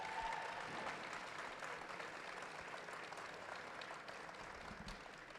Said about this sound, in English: How about a big round of applause here?